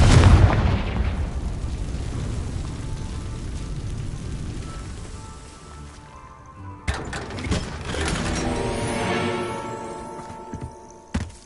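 A Confringo spell explosion in the Hogwarts Legacy game: a loud blast at the start decays into a long rumbling tail, followed later by sharper pops and bursts.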